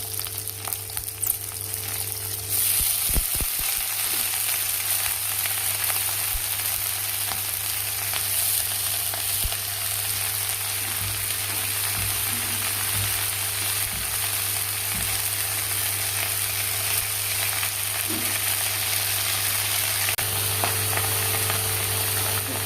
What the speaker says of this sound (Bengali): তেল গরম হয়ে গেছে, এর মধ্যে আছে লঙ্কা, আদা আর রসুন দিয়ে দেবো। এবার পাতাগুলো দিয়ে দেবো।